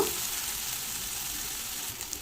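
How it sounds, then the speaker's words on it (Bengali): Continuous soft sizzle of potatoes frying in a pan, with faint stirring scrapes and no voices. "আলুগুলোকে এক থেকে দেড় মিনিট এইভাবে একটু নাড়াচাড়া করে ভেজে নেব"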